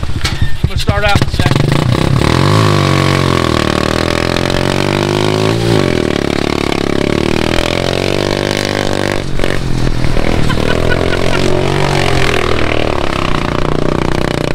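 A 4-wheeler engine drives a racing lawn mower as it is ridden, roaring loud and close throughout with rising and falling revs as the throttle is worked and a rattling clatter over the motor.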